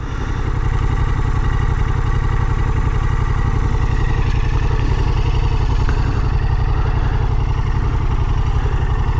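Yamaha MT-07 Tracer motorcycle with its CP2 twin engine idling close by, a steady low throbbing pulse with light mechanical clatter on top, even and unchanging throughout with no talk.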